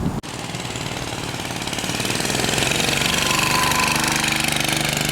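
A 1948 Whizzer motorbike engine runs close by with a rapid, loud, rattling mechanical pulse after a brief start, steady and a little louder toward the middle.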